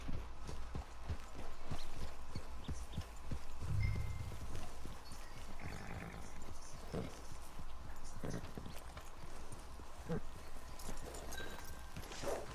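Horse hooves clip-clop at a steady walking pace near a camp in Red Dead Redemption 2, a rhythmic series of hollow knocks with faint voices murmuring underneath.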